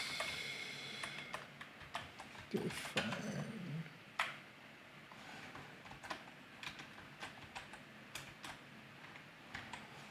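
Quick, irregular clicks of a computer keyboard as someone types code, close and quiet, with bursts of keystrokes, a brief pause and one short spoken word.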